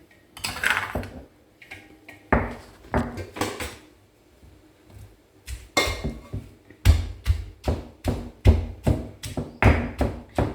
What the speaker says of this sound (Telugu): కొద్దిగా అట్లా దంచాలండి